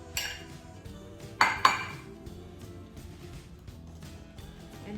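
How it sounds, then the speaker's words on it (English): Mashed bananas and other banana loaf ingredients stirred together in a bowl, with a spoon clinking and scraping against the dish, two sharp knocks early on, then softer steady mixing. "And here we mix all of this together."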